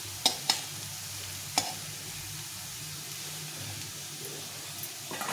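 Potatoes frying in oil in a pan, a low continuous sizzle with a few sharp utensil knocks near the start as they are stirred.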